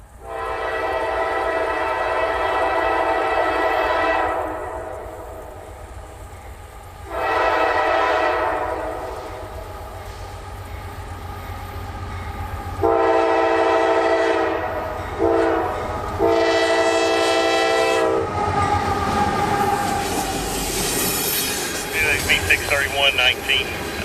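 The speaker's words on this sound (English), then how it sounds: "Line through on track 1 would be our final train of interest, symboled B631, ethanol loads off the CP in Chicago for Tampa." CSX freight train B631, carrying ethanol loads southbound on track 1, sounds its horn in several loud sustained blasts, long then shorter, over the rolling rumble of railcars, with a voice briefly near the end.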